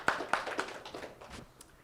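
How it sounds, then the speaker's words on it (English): A brief burst of applause for a panelist at a fashion and AI panel session, a few sharp claps at first that thin out and fade within two seconds. "Round of applause."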